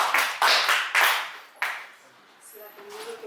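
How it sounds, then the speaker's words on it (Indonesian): A classroom audience at an Indonesian university applauds group 3 after their presentation: a handful of loud, separate clap bursts that fade into a quieter room with some faint tones. "kita beri aplaus kelompok 3"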